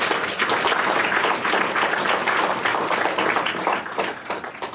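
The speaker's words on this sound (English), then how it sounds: "Flavia Sherry deserves a round of applause" An audience claps for Flavia Sherry at an MSME loan grant cheque presentation, a brisk, even round of applause that holds steady before thinning out near the end.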